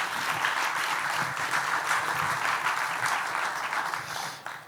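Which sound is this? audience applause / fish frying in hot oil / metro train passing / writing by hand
audience applause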